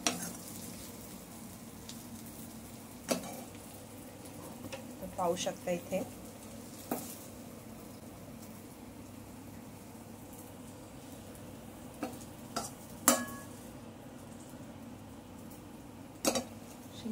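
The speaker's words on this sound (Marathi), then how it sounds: "ही भाजी आहे ना ती आता आपण मस्तपैकी या बाउल मध्ये काढणार आहोत" Cooked okra and garlic curry is scooped from a pan into a bowl, giving scattered scrapes and sharp spoon clinks over a quiet background while a person talks.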